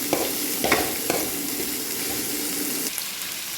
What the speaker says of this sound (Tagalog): napainit na tayo ng mantika. Nilagay na natin yung bawang, sibuyas, at saka nilagyan ko ng konting luya.